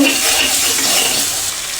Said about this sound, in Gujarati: આપણે આ રીતે એને હલાવતા રહેવાનું, તળિયે સોટવા નહીં દેવાનું શાકને